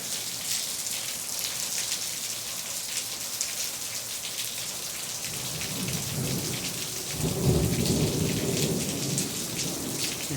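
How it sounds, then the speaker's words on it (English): Steady heavy rain hisses throughout a rainstorm, and midway a deep rumble of thunder swells and booms, rolling for several seconds beneath the constant downpour. "You hear that thunder booming away?"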